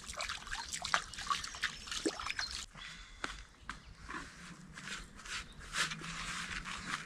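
Water poured into fishing groundbait to moisten it, a faint close trickling and dribbling with soft rustles and small clicks, quiet and intermittent with no talk.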